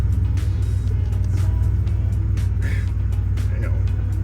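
A truck engine runs steadily at idle, a close, constant low rumble that holds throughout, with faint clicks and knocks over the drone.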